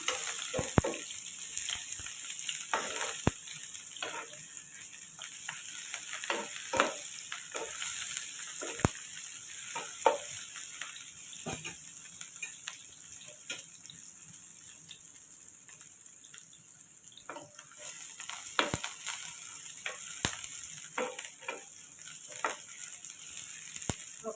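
Onions lightly frying in a pan for a leafy greens fry, a soft continuous sizzle and crackle with scattered pops, steady and fairly quiet, no voices.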